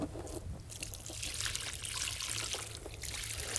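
Water poured steadily onto soil around a newly planted grapevine, a close trickling splash that runs continuously for a few seconds without speech.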